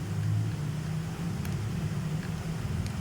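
Motorbike engine in the GTA video game played on a PSP, a steady low droning hum holding throughout with slight pitch wavers, moderately loud and alone.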